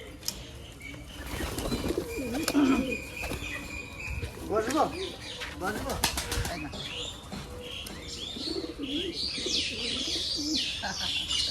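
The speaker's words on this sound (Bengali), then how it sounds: "পায়রা" Pigeons gather close around a person calling them in, with soft cooing and fluttering wing flaps throughout, mixed with a few chirps and a voice speaking nearby.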